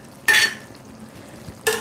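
Broccoli is stirred into gravy in a cooking pan, two short bursts of scraping and clattering, separated by a quiet pause.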